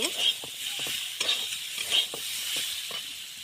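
A curry is stirred in a frying pan, with a steady sizzle of frying under repeated short scraping strokes spread through the clip, close by and with no talk.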